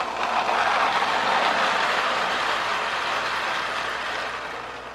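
A Marx FT diesel toy electric train runs along its track with a steady whirring rumble, close and fairly loud, fading slightly toward the end.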